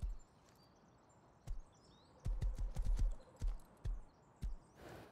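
Horse hooves clip-clop in irregular clusters of sharp knocks in the video game Rust, the horse ridden while carrying loot, with faint background ambience and no talk.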